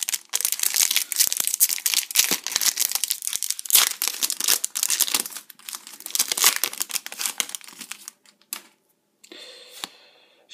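Close crinkling and tearing of a trading card pack's foil wrapper as it is ripped open, a dense run of crackling bursts for about eight seconds before the handling tapers off into quieter rustles.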